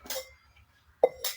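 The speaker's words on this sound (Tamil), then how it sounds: "இப்போ நம்ம பாத்திரத்தை மேலே வச்சிடலாம்." A metal cooking vessel is set down on an induction cooker during a repair test, giving a short sharp clink among a few light metallic knocks in a quiet room.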